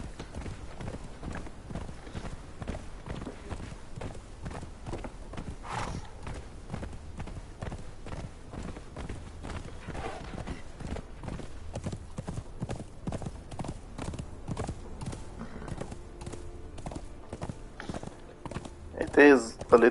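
Horse hooves clip-clop steadily in a continuous walking rhythm while riding in Conan Exiles on the Isle of Siptah, fairly close and even in level throughout, with a brief sharper burst near the end.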